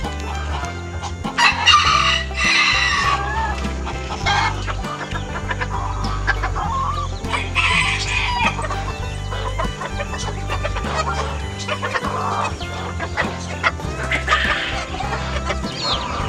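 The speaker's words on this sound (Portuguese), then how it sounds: "esse galo polaco carijó, com todas essas galinhas suras" A barred Polish rooster and a flock of hens fill the yard with steady clucking, with loud crowing bursts rising several times over the continuous chatter, close and without talk.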